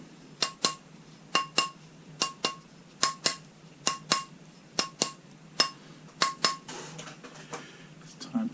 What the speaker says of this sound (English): Just tap it with a rawhide hammer.